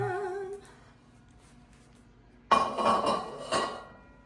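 A hot cake pan is shaken and knocked to release the cake: quiet at first, then a loud metallic clatter at about the midpoint followed by a second rattling bump.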